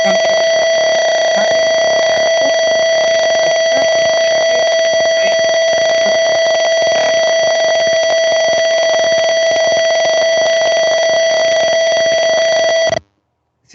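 A microcontroller temperature alarm sounds a steady, loud electronic tone for about thirteen seconds, unbroken and alone, then cuts off abruptly at the end.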